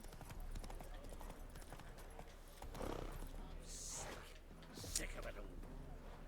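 In a video game, the horse Roach clip-clops along with repeated hoofbeats under a steady bed of background sound, with a louder rustle and a sharp accent near the end; a person talks over it.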